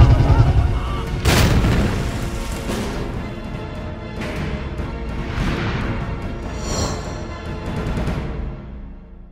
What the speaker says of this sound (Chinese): 炸了，快跑！